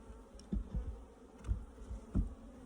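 Angry honeybees swarm around an opened hive during a check on a split colony, a constant faint buzzing drone punctuated by several louder, close passes as individual bees zip near.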